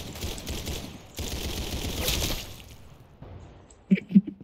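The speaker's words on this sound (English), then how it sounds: "that third shot I shot at you, this should have been a headshot" Gunfire in a video game: noisy bursts of shots for the first couple of seconds, then a quieter stretch ending in two sharp, close shots, with possible faint talk.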